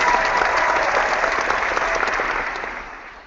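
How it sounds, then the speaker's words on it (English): Applause sound effect from a video call's built-in effects: a dense, steady wash of clapping that holds evenly, then fades out over the last second. "We could do applause."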